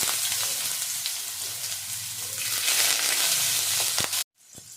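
Chopped onion drops into hot white vegetable oil with whole cumin, setting off a loud, close, continuous sizzle that stops abruptly near the end.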